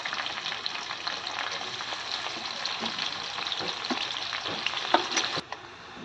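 Onion fries in a pan with a continuous close sizzle and occasional stirring scrapes, steady throughout before dropping off briefly near the end.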